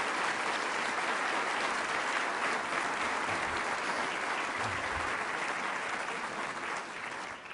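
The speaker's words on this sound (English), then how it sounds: "Let's give them all a big round of applause." Continuous, even applause from a city audience at a State of the City address, a full round of clapping that holds steady before easing slightly near the end.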